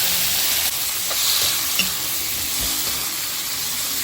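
Dried fish frying in a pan, a loud, continuous close-up sizzle with a few faint stirring scrapes underneath.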